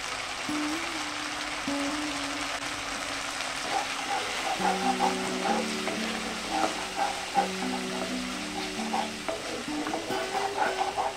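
Masala frying in oil for a chana paneer curry, stirred steadily in the pan with a constant close sizzle and scraping, while a faint tonal hum runs underneath.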